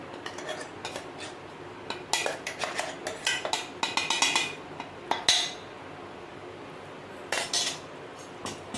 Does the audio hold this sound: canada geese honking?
no